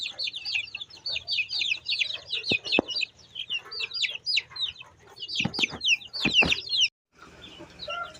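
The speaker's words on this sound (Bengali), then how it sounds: "এই যে আগের মুরগির বাচ্চাগুলো।" Native chicken chicks cheep in a shed during rain, a dense run of high, rapid peeps from many birds with a few sharper calls near the end before a brief pause.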